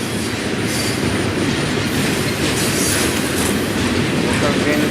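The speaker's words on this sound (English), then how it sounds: "Here comes the end of the train now." A BNSF freight train rolls past close by in Springfield, Missouri, its loud continuous rumble carrying wheel clatter and metallic squeal without a break.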